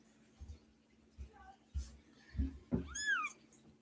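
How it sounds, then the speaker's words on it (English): Faint, thin meows from newborn kittens about two weeks old come in short bursts amid soft rustling and low thumps, ending in a louder, higher squeal. "We have kitties."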